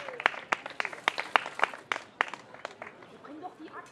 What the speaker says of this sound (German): Danke dir. Jubel!